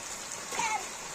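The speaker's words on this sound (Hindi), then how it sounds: "ये देखते हैं हम लोग बारिश में नहा रहे हैं" Steady rain pours outdoors while children bathe in it, a soft continuous hiss with faint voices drifting underneath.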